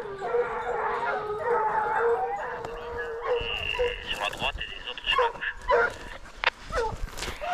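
Hunting dogs bay and howl together in drawn-out cries during a hunt, some higher yips mixed in, while someone talks over them outdoors.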